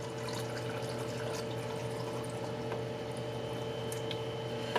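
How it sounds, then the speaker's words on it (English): Filtered water pours into canning jars of carrots, a steady close splashing trickle with a faint hum beneath it and no speech. "I'm just going to go ahead and put some water in here."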